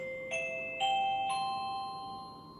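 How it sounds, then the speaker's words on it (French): A wireless doorbell chime rings three bright, tinkling tones in a descending-then-rising melody, each note ringing out and fading softly, heard alone. "j'ai choisi cette sonnette-là"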